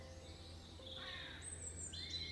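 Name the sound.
birdsong in the woods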